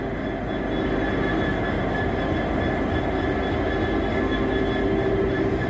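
A Class 66 diesel freight locomotive rumbles past on a London railway line, a loud, continuous roar of engine and rolling wheels with a faint steady whine, close by and unbroken for the whole stretch.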